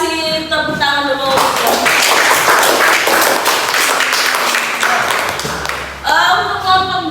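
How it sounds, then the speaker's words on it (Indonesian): A school class gives a round of applause after a group presents a poster on a hot air balloon and Archimedes' law. Loud, close, brisk clapping runs for about five seconds, with talk just before and after. "Kita kasih tepuk tangan dulu."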